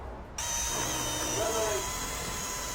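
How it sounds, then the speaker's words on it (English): A power drill with a paddle mixing epoxy starts abruptly and whirs steadily at close range, a high buzzing hum with a slight churning wobble as it turns. "he's going to mix the epoxy with the paddle"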